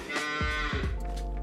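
Cows in the farming game Farming Simulator 25 give a couple of deep, drawn-out moos, close and fairly loud, with no talk over them.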